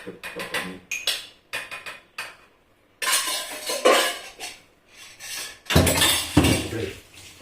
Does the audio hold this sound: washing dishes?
yes